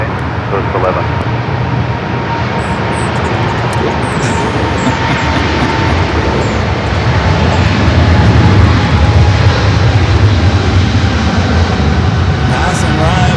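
A Qantas airliner landing on runway 24 right at LAX sweeps past nearby, a loud continuous jet roar that swells slightly toward the end, with people talking beneath it.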